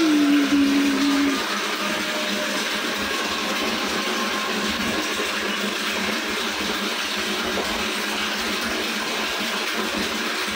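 Water rushes through household pipes and pours from a bathroom tap after a water tank has been cleaned. The flow is steady, loud and close, and it carries on without a break.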